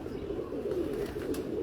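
Pigeons cooing softly from a rooftop, a low murmuring, rolling coo that carries on steadily at moderate distance with no voices.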